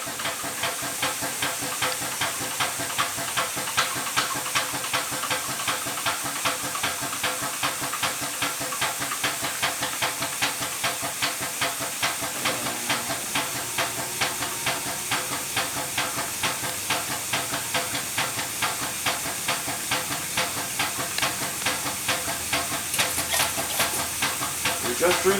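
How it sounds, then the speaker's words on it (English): An 875E oil extraction machine draws oil out of an engine crankcase with a loud, steady hiss and a fast, regular pulsing throb that runs the whole time, close by. "We're removing the oil from the crankcase"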